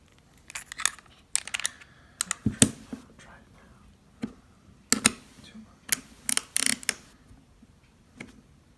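Sharp clicks, taps and scraping of small metal parts come in irregular bursts up close as a baitcasting reel is tightened down during cleaning, with brief quiet gaps and faint murmured speech.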